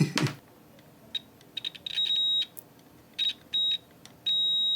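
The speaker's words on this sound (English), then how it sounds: "Let me test the continuity and see if we've made that clean or not." A multimeter gives short high beeps during a continuity test on a broken Nintendo DSi XL board, first in quick broken chirps, then in longer steady tones, after a brief clunk at the start.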